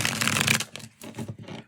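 Small travel-size tarot cards being riffle shuffled, a dense papery burst of flicking cards up front followed by a few shorter, quieter riffles, close and alone with no talking.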